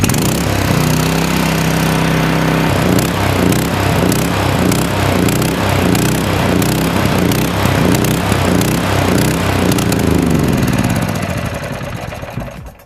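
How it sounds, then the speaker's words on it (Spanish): A gasoline engine runs loudly at high revs with a fast, steady throb. It then winds down and shuts off near the end, fading to quiet. "Van a ver cómo el motor se va a apagar."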